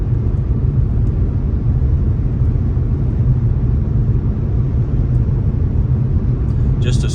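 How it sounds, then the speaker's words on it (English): An Infiniti G37 with its check engine light on drives along smoothly, giving a steady, dense low engine and road rumble that holds unchanged from start to end. "Just a smooth driving little car."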